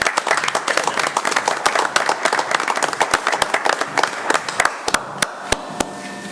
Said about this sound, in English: So I'd like to give them a round of applause also